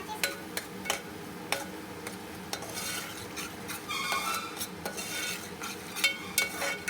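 Masala chili powder being stirred into hot oil for a tamarind fish curry, a rhythm of metal spoon taps against the pan over a low frying sizzle, close with no voices.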